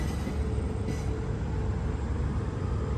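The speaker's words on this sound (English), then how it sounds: "I just like the grinding noise that train makes" A train passing beneath a bridge makes a continuous, loud grinding rumble that stays steady and close, with no talk.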